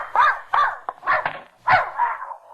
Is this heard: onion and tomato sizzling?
no